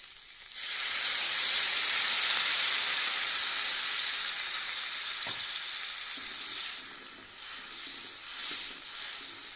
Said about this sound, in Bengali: এবার হালকা করে একটু গরম জল দিয়ে দিব।